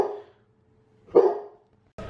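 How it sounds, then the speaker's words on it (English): Dogs bark indoors in two short, loud woofs about a second apart, with a third bark cut off at the end and silence between them. "the dogs have to bark when I'm going over this"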